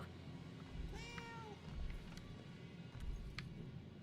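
Cat meowing in the video game Murdered: Soul Suspect: a few rising, drawn-out meows around the middle, heard fairly close over a low ambient game background with faint footsteps.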